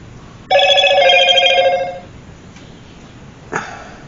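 A cell phone rings loudly nearby with one long electronic tone burst, then a short second burst after a pause, with no talking.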